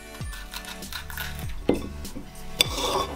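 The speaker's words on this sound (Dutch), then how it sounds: "ik ga als eerst even de paprika in lange reepjes snijden" A knife cutting bell pepper into long strips on a board: a few crisp chops and clacks of the blade striking wood, spaced about a second apart, close up, with no talk.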